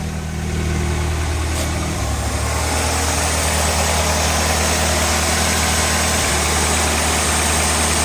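A 1986 Ford Ranger with a 2.3L four-cylinder engine idles roughly up close, a loud, steady low rumble with a slight uneven pulse and a brief shift in tone partway through.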